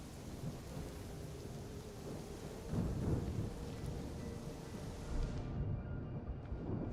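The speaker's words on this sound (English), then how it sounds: "There's a storm coming in." Thunderstorm in the video game Assassin's Creed Shadows: steady heavy rain hiss with low rumbling thunder swelling midway, loud and enveloping, no talk heard.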